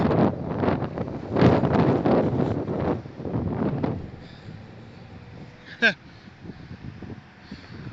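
Gusty wind buffets a microphone outdoors in Wisconsin, loud rumbling bursts for about four seconds that then die down to a quieter background with one brief sharp sound.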